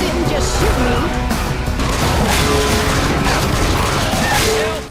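Dense gunfire from the video game Left 4 Dead 2, a steady loud barrage of shots and crashes mixed with game effects and a voice, continuous throughout.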